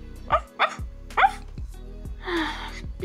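A dog barks in a Toca Boca game scene, several short sharp yips spaced across the moment, over steady background game music, followed by a brief whining sound.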